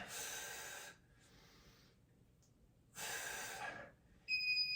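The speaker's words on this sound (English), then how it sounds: "You should be breathing out as you lift up," Someone breathes heavily during a HIIT workout, giving two long, loud, noisy breaths with quieter breathing between them and a short sharp breath at the end.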